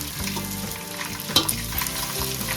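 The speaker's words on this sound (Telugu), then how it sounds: "ఉల్లిగడ్డలు వేస్తున్నాం ఇప్పుడు. దాంతోపాటు కరివేపాకు కూడా." Onions and curry leaves fry in a pan of oil, a steady close sizzle with a spatula stirring and scraping now and then, one brief sharp clink partway through; no talk.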